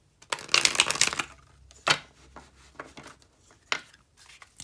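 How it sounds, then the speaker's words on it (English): Tarot cards being shuffled by hand, a few separate bursts of crisp riffling and flapping, close and fairly quiet with pauses between. "Shuffling live is a pain though, because the cards just don't want to cooperate"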